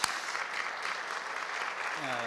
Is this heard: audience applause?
yes